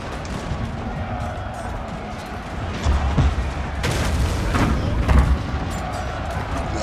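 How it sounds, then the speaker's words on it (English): Artillery fire in a snowy castle battle in Shogun 2: Total War lands as several heavy booms and crackling volleys over a constant rumble of combat, while someone talks over it. "Oh, and some of the artillery is coming in now."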